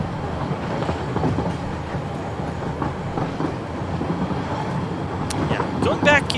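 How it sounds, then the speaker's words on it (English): A train in the video game Satisfactory rolls fast downhill, with a continuous rumbling run and rhythmic rail clatter, and a few brief higher tones near the end. "the train picks up a lot of speed going down these hills"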